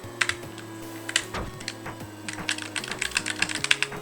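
Computer keyboard typing in a level editor for a game, a close run of quick clicky keystrokes that speeds up and grows denser toward the end, with no one speaking.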